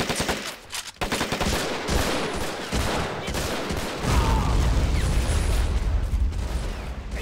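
Sustained automatic gunfire from a Men of War: Assault Squad battle rattles in dense overlapping bursts, loud and nearly continuous, with heavier low booms mixed in toward the end.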